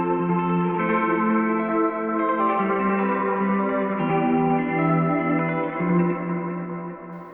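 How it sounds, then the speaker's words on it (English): Pop guitar made with MIDI, run through a Valhalla guitar delay preset at a full 100% wet mix. The notes blur into dense, washy repeats that sustain loudly and continuously throughout, with no gaps. "So my favorite preset to use here is the glorious guitar delay."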